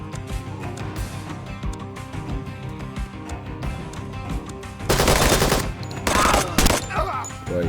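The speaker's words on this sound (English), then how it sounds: "The bullets are just wheezing past him." Gunfire in the tactical shooter Door Kickers 2, with a steady rattle of shots running under background game sound, then two loud, dense bursts of automatic fire near the end.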